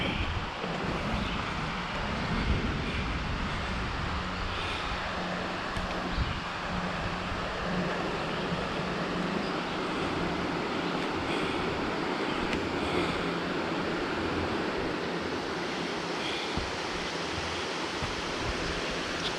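River water beside the D&L Rail Trail rushes in a steady, broadband wash, close to the microphone and continuous throughout, with some wind buffeting mixed in and no talking.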